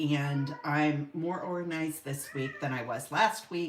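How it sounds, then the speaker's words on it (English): A house cat meows and cries insistently while a person talks steadily over it, the calls partly masked by the speech. "Do you hear my cat?"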